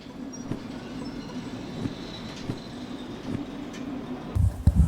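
A railroad car rolling on rails in the game Derail Valley, a steady low rumble with periodic clicks and thumps from the wheels, ending in a louder burst of clanks.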